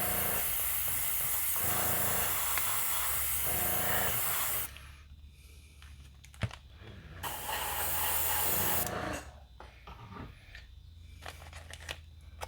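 Airbrush spraying paint on a 1:1400 scale U.S.S. Enterprise NCC-1701-C model, long steady close hissing bursts broken by short pauses and a sharp click, then a quieter stretch with a brief second burst.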